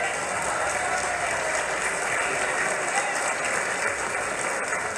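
Loud, dense applause in honour of Honduran women, a sustained even roar of many hands clapping that fills the whole stretch without a break.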